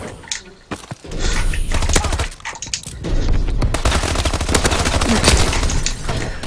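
Rapid bursts of game gunfire from a suppressed rifle, loud and dense, with a short lull near the start before sustained automatic fire that continues to the end.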